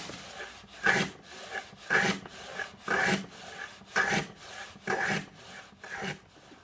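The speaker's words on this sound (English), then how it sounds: "cut the bottom and the lid from a thin piece of ash" Thin ash wood being hand-sawn for a box bottom and lid, a steady rasping stroke repeating about once per second, close and dry with a gritty scrape on each pass.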